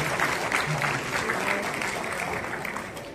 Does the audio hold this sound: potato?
no